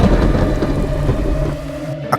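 Steady heavy rain falls throughout, with a low rumble of thunder rolling beneath it in the open air of a village.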